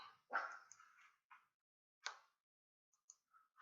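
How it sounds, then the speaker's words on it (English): A few sharp dog barks and yips, one loud burst followed by shorter scattered ones with quiet gaps between, fairly close. "Expect to hear a bit of dog barking."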